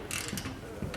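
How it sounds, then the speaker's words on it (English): A ratchet with a thin-wall socket tightens the two bolts that hold a cycle carrier bracket to a trailer load bar rail. Short bursts of close, quick mechanical clicking come in several bouts, with no talk. "You tend to need a fairly thin wall socket to get in, and that needs to be tightened up like so."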